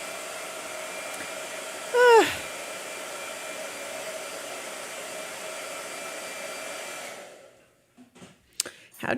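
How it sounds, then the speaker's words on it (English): A hair dryer blows with a steady loud whir for several seconds, then cuts off, leaving a few faint clicks and rustles. "Blow dryer."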